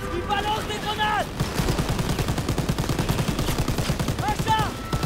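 Rapid bursts of gunfire from the video game Call of Duty WWII crackle in quick repeated volleys, with someone speaking French over the shooting.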